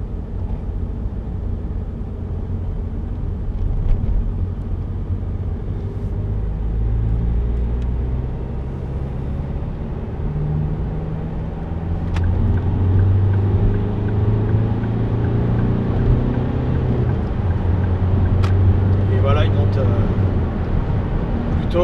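Ford Focus C-MAX 1.8 TDCi 115 diesel from 2006 accelerating in third gear from 50 km/h, a steady low engine drone and road rumble rising slowly in pitch, heard from inside the cabin with occasional talk over it.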